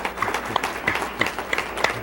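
An audience claps along in a loose, rhythmic pattern, with sharp individual claps repeating roughly every third of a second, moderately close and fairly light.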